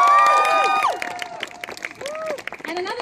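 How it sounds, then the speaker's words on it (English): Clapping and cheering from a crowd at a student show, with shouts and voices mixed in, loud at first and then thinning to scattered claps under chatter. "So a big round of applause for Nikhil!"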